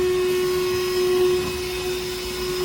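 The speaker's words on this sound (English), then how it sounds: "We're gonna vacuum this crap out of there." A small hose vacuum cleans out the inside of a Nissan Xterra, giving a steady, fairly loud motor whine with a constant pitched hum and airy rush and no voices.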